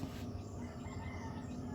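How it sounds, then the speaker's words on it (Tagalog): A rooster crows nearby with chickens clucking around it, one continuous call over quiet farmyard background. "Namalik dito mga manok anak."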